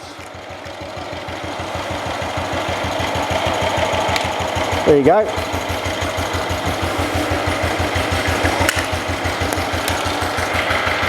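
A small engine chugs steadily at a constant idle-like rhythm while powering about 210 watts of electrical load, with a brief clunk midway and a voice speaking briefly over it.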